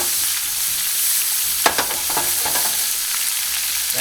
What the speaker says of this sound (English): once it's sauté about a couple of minutes with the onions and the peppers